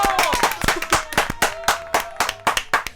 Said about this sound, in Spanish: ¡Vamos con ese aplauso!